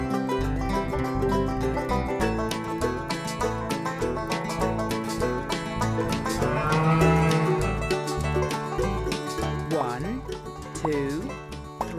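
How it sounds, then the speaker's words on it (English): Cows moo on a cartoon counting farm, long lowing calls over a bright, steady children's music backing with a voice talking, loud and continuous throughout. "Hello, Moo Moo Cow."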